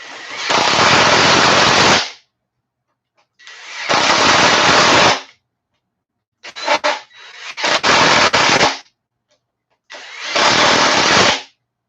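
Ryobi impact driver running in repeated bursts, a loud, close, rattling hammering roar lasting about two seconds each, five bursts separated by short silences.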